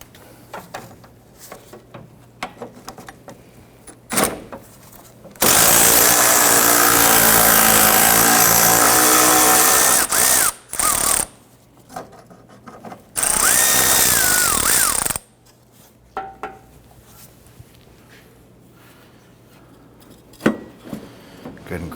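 A power tool drives out the lower 10mm headlight bolt on a 2006-2014 Honda Ridgeline, two loud, steady whirring bursts of about five and two seconds close up, with quieter handling noises between them.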